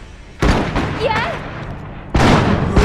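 Gunfire in the real-time strategy game Iron Harvest: two loud bursts of shots, one near the start and another about two seconds later, with a voice speaking in between.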